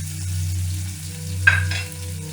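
Tomatoes frying briefly in a pan for red masoor dal, a low steady sizzle with a short sharp scrape or clink of a utensil midway, close and without speech.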